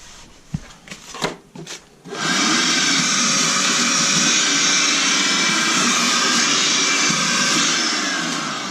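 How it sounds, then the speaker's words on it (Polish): A few knocks and clicks, then a Dedra SAS+ALL multi-tool's vacuum cleaner motor switches on and runs with a loud, steady whine and rushing air. "A odkurzacz jak działa? Funkcja odkurzacza."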